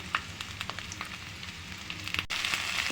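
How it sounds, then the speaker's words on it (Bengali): Onion, green chili and cumin fry in mustard oil for a drumstick-leaf bhorta, a soft sizzle with small crackles and stirring taps that swells slightly louder near the end. "এখন আমি এখানে পেঁয়াজ কাঁচামরিচ আর জিরাটা দিয়ে দিলাম এখন এটা কিছুক্ষণ নাড়াচাড়া করে নেব"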